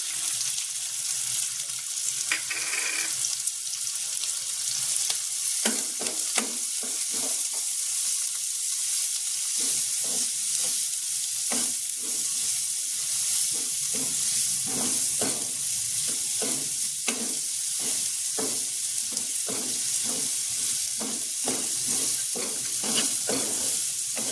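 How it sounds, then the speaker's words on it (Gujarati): Onions with cumin and turmeric sauté in a pan for aloo paratha filling, making a continuous close sizzle broken by repeated scraping stirs of a spoon. No one speaks. "ડુંગળી થોડી સતળાઈ ગઈ છે"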